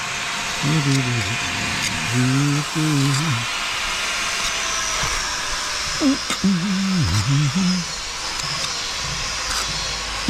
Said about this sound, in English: Here the old grinder, busy at it, grinding out the joints ready.